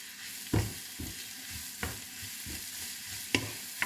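Food frying in a pan is stirred with a utensil, with about five distinct scraping knocks at uneven intervals over a steady soft sizzle.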